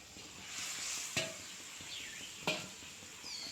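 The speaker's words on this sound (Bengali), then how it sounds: "ঝোল একদম বলক উঠে গেছে" Curry broth boils hard in a pot, a steady bubbling hiss broken by two sharp metallic knocks, close by with no voices.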